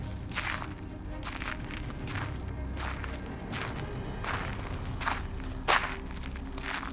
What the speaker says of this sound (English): she heard footsteps approaching.